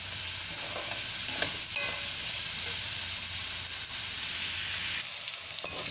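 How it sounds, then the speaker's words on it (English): Vegetables for upma cook in a covered pan with no added water, giving a steady close sizzle and frying hiss that runs continuously, with faint stirring or lid sounds and no talking. "So let me keep it covered. Okay, so this will cook the vegetables soft"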